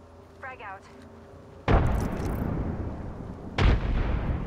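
Two loud, booming frag grenade blasts in a shooter video game, separated by about two seconds, each bursting in sharply and rumbling on; a brief voice line is heard before the first.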